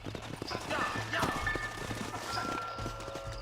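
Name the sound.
horses clip-clopping as riders dismount, from Red Dead Redemption video game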